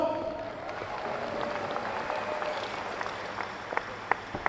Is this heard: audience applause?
yes